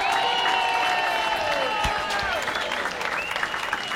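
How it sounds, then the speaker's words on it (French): A crowd applauds padel finalists Fran Ramirez and Miguel González at a tournament final, steady sustained clapping filling the space, with some voices and cheering mixed in over the ongoing applause. "Je vous demande de faire un tonnerre d'applaudissements pour Fran Ramirez et Miguel González."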